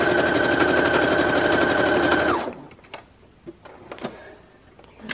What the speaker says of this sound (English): So number 4, this is probably my most used stitch. This is a zigzag stitch.